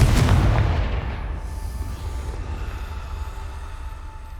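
In Hogwarts Legacy, a Confringo spell explodes with a loud, close boom at the start, then rumbles away into a long, low tail.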